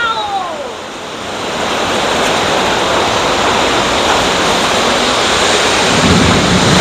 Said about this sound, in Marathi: अशी पाऊस पडायला चालू झाली आहे बघ